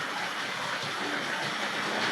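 Tri-ang Railways model train running on a toy track layout, a steady continuous rolling whir with faint rhythmic clicking over the rails, close and moderately loud with no talking.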